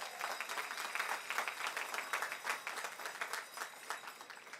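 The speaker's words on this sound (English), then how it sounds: "give yourself a round of applause" Graduates applaud at a university convocation, crowd clapping with a fairly quick uneven rhythm, moderately distant and filling the hall, with no voices over it.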